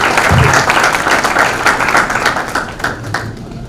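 An audience at a mock-trial pleading event in a hotel hall applauds a newly introduced student, a loud, close, even wash of clapping throughout that thins slightly toward the end.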